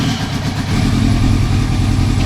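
A repaired Yamaha R1 sport motorcycle engine, rebuilt after a wreck, runs steadily at close range, a loud continuous rumble with a slight rise in intensity after the first half second and no talking.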